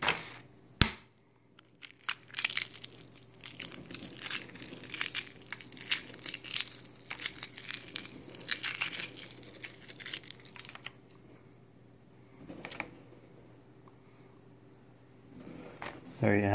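Shell being peeled from a hard-boiled egg, with repeated crackling and crinkling bursts that come close and fairly clear, then thin into quieter fragments near the end.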